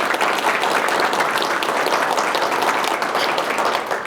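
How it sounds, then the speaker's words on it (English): An audience at a school district event breaks into loud, dense applause, a steady wash of many hands clapping that continues for the whole few seconds with no talk over it. "Let's give the foundation a round of applause."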